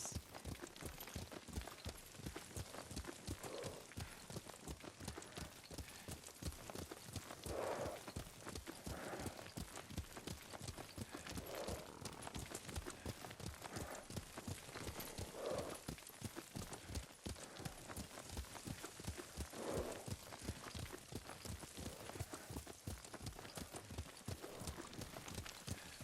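Horse hooves clip-clopping in steady rhythm while riding in the video game Ghost of Tsushima, a continuous run of close hoofbeats with soft ambient background and no talk.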